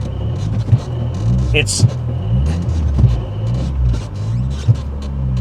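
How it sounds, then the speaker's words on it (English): A 2003 Dodge Neon SRT-4 engine lugs at low RPM in fifth gear, a deep, steady rumbling drone heard from inside the car with a few soft knocks, while someone talks over it. "let's see if we can drive it in fifth gear"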